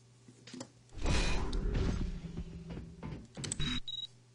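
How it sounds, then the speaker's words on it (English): Door in a video game level sliding open and shut, a soft mechanical whoosh and rumble lasting a couple of seconds followed by a shorter closing movement, quiet and alone. "So notice door's working, opening and closing."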